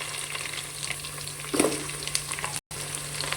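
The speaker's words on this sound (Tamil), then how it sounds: "இந்த ஸ்டேஜில் நம்ம நறுக்கி வச்சுருக்கிற பெரிய வெங்காயத்தை சேர்த்துக்கலாம்." Chopped large onions sizzle and fry in hot oil in a pan for prawn biryani, a steady close crackle with a brief stir near the middle and a momentary dropout.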